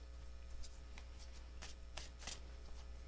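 A deck of tarot cards is shuffled in a few quick, faint riffles and taps over a steady low hum, with no voices.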